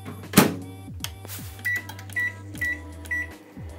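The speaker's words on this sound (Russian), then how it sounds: "И ставим теперь в микроволновку это все дело на 2-3 минуты." A microwave oven heats a mug cake, giving a steady low hum broken by door and button clicks, then a run of four short, evenly spaced beeps near the end.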